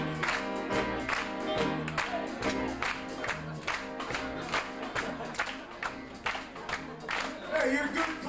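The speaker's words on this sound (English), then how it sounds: "Hey, you're good clappers." Audience at a 1993 live variety show claps along in a steady rhythm to an upbeat band song, the sharp claps blending with loud music throughout.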